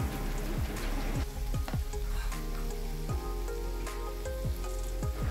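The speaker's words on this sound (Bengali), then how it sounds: "আমি হালকা করে একটুখানি ভেজে নিচ্ছি" Prawns fry lightly in oil, a crackling sizzle with repeated sharp spattering pops and ticks, close and fairly quiet.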